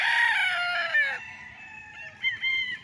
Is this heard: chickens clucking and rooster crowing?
yes